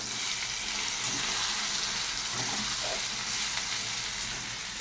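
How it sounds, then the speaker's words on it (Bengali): Turmeric, cumin and chilli powder fry and get stirred in a pan for a Bengali hilsa fish head curry with potato and pointed gourd, a continuous close sizzle with faint scraping from the stirring. "হাফ চামচ হলুদের গুঁড়ো হাফ চামচ জিরের গুঁড়ো আর হাফ চামচ লঙ্কার গুঁড়ো এটাকে ভালো করে মিশিয়ে নেবো"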